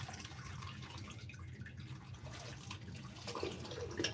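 Water drains from a shop bathroom drain in a faint, steady trickle and wash, with a few soft drips near the end.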